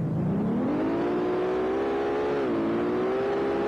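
Audi S4 engine in the racing game SLRR, a loud continuous drone that climbs in pitch as it revs, then dips briefly at a gear change before steadying, with no talk over it.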